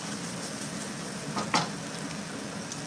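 Shaved steak sizzles and fries in a hot pan as it is stirred and spread out, a steady close crackle with a brief louder scrape of the utensil midway.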